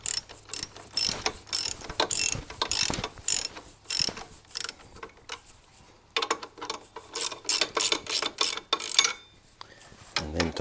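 Bicycle chain adjuster bolts being tightened with a ratcheting tool during a chain replacement, giving close, loud bursts of rapid clicking ratchet strokes separated by short pauses.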